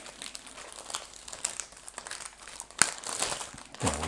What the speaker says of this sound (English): Here is the giant Ziploc bag that these sheets come in.